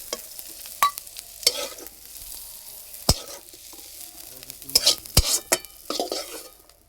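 Onions for a cauliflower bhorta are stirred briefly in a frying pan: a soft sizzle sits under irregular scraping strokes and sharp metallic knocks of a spatula against the pan, with no voices.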